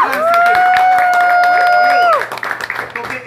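Audience applause and cheering, loud and dense, with a sustained electric guitar tone ringing over it before the clapping thins out.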